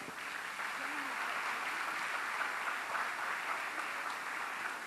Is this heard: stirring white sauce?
no